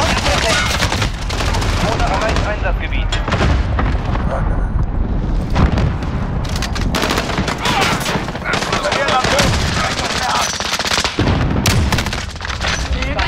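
Cluster strike explosions and dense gunfire in Call of Duty Modern Warfare 2019 team deathmatch on the Crash map, loud continuous blasts and bursts throughout, with voice callouts mixed in.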